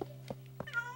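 A cat meows several times in short, close bursts inside a Minecraft game, the last call rising into a longer tonal cry over a steady low hum.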